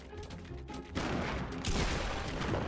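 Rapid gunfire and explosive bursts from a Fortnite battle, with a loud dense barrage starting about a second in and continuing nonstop, with sharper blasts near the middle; little speech is heard.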